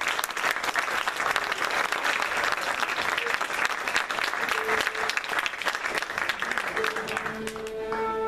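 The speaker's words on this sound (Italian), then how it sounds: "a cui chiedo di fare un applauso" A Christmas concert audience claps steadily for several seconds, dense and full, as a few instrumental tones begin to sound near the close.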